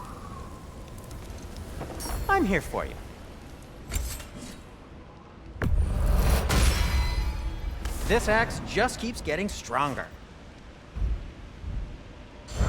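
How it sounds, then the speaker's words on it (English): Thunderstorm with rain in God of War Ragnarök: steady rainfall with deep rumbling thunder swelling midway, heard under frequent character dialogue. "Over a storm like this?"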